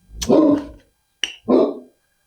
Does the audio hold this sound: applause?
no